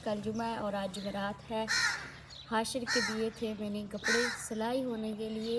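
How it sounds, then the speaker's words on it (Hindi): Repeated harsh crow caws ring out in bursts while a person talks steadily over them. "कौवा बोल रहा है"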